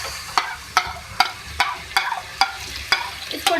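Ground onion, green chilli and tomato masala paste frying in a pan, a steady sizzle broken by regular spoon scrapes and stirring strokes, about eight evenly spaced clacks, close and clear, with no talking.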